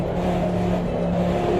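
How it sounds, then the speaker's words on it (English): LMP1 prototype race cars in the Automobilista 2 racing game, a sustained engine drone with a steady tonal hum, fairly loud and continuous over a brief stretch. "These LMP1 cars are coming."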